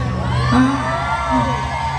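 A crowd at a Thai temple fair concert in Nonthaburi cheers and whoops in a rising, sustained roar, loud and close, with shouting voices over a steady background hum.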